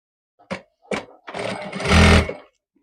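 A sewing machine stitches fabric for a kameez neckline: two short mechanical clicks, then a brief run of rapid stitching that grows louder and stops, with no talking.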